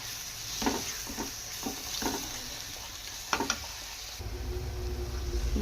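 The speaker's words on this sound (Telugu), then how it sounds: "ఇలా కారం వేసుకొని ఫస్ట్ కారం వేసుకొని కలుపుకోవాలి." Chili powder being stirred into hot frying oil for chicken curry, a steady low sizzle broken by several soft scraping strokes and a brief clatter near the end, with no talking.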